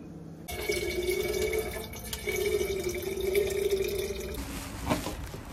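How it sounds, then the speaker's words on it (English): Tap water runs steadily into a water bottle as it fills, a continuous close splashing stream with a faint rising tone, heard alone without talk. "It's time to fill my water bottle up anyway."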